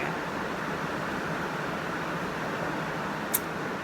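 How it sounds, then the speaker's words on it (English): Heavy rain pouring down outside, a dense steady hiss with no breaks and no talk, heard as a constant wash of noise throughout. "it is raining. It's pouring"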